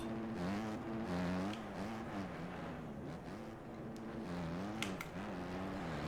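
A motocross bike engine in the MX Bikes video game drones and revs continuously, pitch rising and falling with throttle blips at a moderate level, with no voices.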